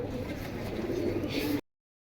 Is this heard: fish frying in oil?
no